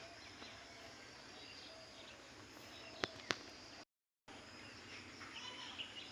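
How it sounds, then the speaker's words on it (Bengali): Faint, distant birds chirp over a quiet outdoor hum, with two sharp brief calls standing out and a short silent gap. "পাখিরা কিচমিচ কিচিরমিচির শব্দ, মুখরিত সকাল"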